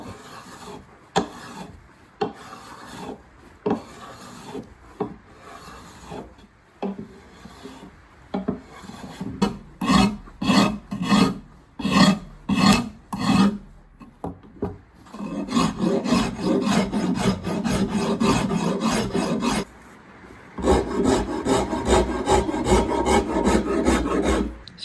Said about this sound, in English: So I just spent about half an hour blending all the facets in with this cabinet maker's rasp